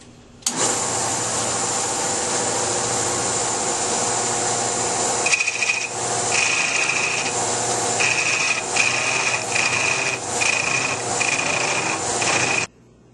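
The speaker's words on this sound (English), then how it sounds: "now I'm going to start to hollow out the inside of this ornament" A wooden Christmas ornament is hollowed out on a lathe with a cutting tool, a loud steady whirring rub, then a series of sharp scraping bursts as the tool bites, ending abruptly.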